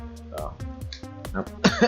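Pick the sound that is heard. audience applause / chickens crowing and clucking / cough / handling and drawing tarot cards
cough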